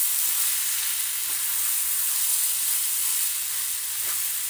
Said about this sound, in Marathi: याला आता आपण फ्राय करून घेऊ छान। फुल फ्लेम वरतीच करायचं आहे